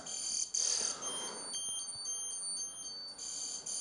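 A Garmin bike computer's anti-theft alarm going off after the unit is moved: a shrill electronic beeping with steady high tones, repeating in short bursts with brief gaps, loud and close.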